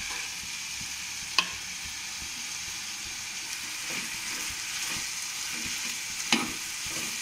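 Chopped onion, tomato and curry leaves for a kovakkai fry stirred in a pan, with a soft, continuous sizzle and two sharp spoon knocks against the metal; no speech.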